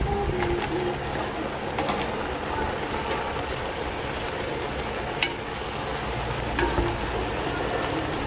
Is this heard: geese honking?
no